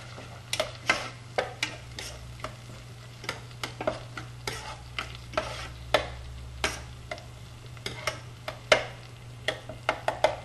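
Garlic, red chili powder and turmeric are sautéed in a pan for dal, with a spoon scraping and knocking in irregular clicks over a faint sizzle and a low steady hum.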